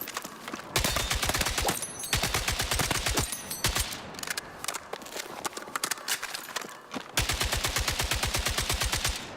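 Bursts of AK-4D rifle fire in a shooter video game, rapid evenly spaced shots in several strings of full-auto fire separated by short pauses, loud and close.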